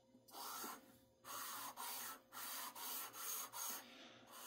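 A large file rasping across the surface of a classic Mini oil pump, about seven short, even strokes in a steady rhythm, close and clear over a low background hum.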